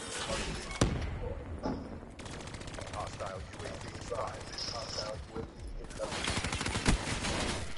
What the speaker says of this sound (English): Get him, sentry gun!